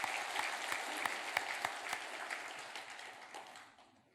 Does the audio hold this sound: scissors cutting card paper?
no